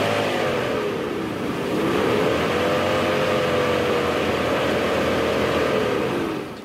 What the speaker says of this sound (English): If you rev that car, we all know we don't like the sound of a viscous.